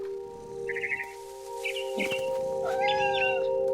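A cat in the video game What Remains of Edith Finch gives a few short, high meows and chirps over a low steady hum, close and fairly clear.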